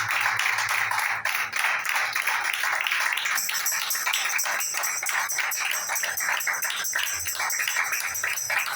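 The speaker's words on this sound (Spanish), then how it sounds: "Entonces hágale fuerte las palmas a Cristo." A church congregation at a Spanish-language Christian service claps together in a dense, sustained burst of rapid hand claps that carries on for several seconds without talk.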